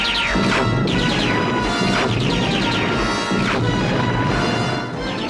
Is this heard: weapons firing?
yes